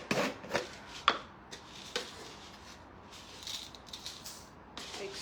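Oats scooped and tipped into a wet mixture with turmeric and greens, a few soft scraping, rattling strokes spaced through a quiet, close kitchen scene.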